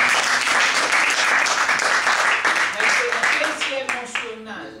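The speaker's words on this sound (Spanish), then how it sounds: "Denme un aplauso grande." Loud, dense applause from a church congregation at a Spanish-language motivational sermon in Geneva, steady for several seconds before thinning into scattered claps as a voice comes in near the end.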